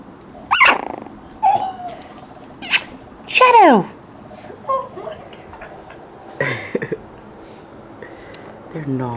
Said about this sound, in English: They're naughty little puppies.